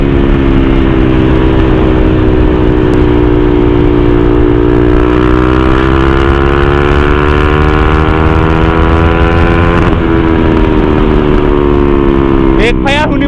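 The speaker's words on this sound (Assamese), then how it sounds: "বেক ফায়াৰ শুনিব পাৰে গাইছ" A KTM Duke 390 with a full Akrapovic exhaust roars through its gears, a loud, close engine note rising and settling, with sharp popping backfire bursts near the end and a voice talking over it.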